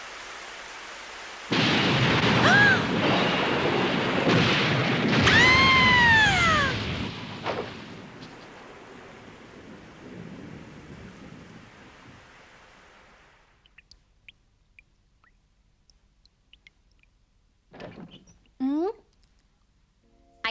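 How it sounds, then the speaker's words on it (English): Cartoon rain and a thunderstorm rush in as a loud, steady downpour with a rumble of thunder, gradually fading away, followed by quieter sparse sounds and a brief voice near the end. "It started raining."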